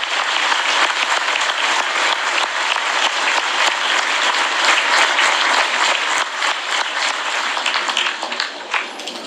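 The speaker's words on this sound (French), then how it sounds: "Vraiment un moment d'émotion avec une minute d'applaudissements également avant le coup d'envoi" A football stadium crowd holds a sustained minute of applause before kick-off, steady dense clapping from the stands filling the whole stretch without letting up.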